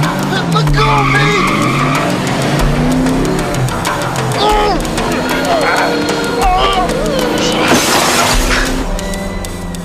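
A window's glass shatters in a sharp, bright crash near the end of a noisy Chinatown scene. Tires squeal and skid throughout, with raised voices talking over them.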